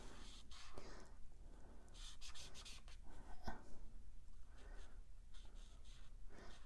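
Alcohol marker blending color on stamped cardstock, a steady soft rubbing and scratching of the felt tip that continues in repeated strokes for several seconds, close and fairly quiet.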